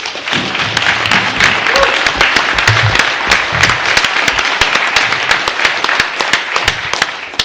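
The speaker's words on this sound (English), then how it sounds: "So please give them another round of applause." Applause fills a city council meeting chamber, many hands clapping in a loud, crackling wash with sharp individual claps standing out, sustained for several seconds and fading slightly toward the end.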